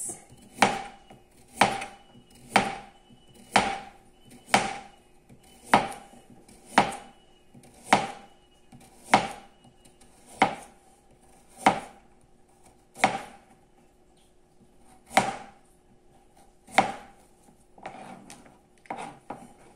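A knife chops carrots on a cutting board for a prebiotic salad, about fifteen crisp, evenly spaced strikes landing close up with no other sound, the pace slowing slightly toward the end.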